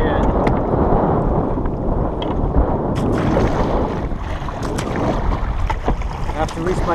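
Wind gusts over choppy water on a kayak fishing trip, a rough, steady rush of buffeting with splashes and small knocks against the hull, heard from close range.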